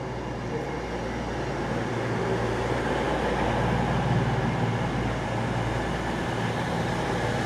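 Steady rumble of a former Avanti Cross Country Class 221 diesel train heading to Leeds, a broad continuous drone with low engine hum running evenly throughout, no voices over it.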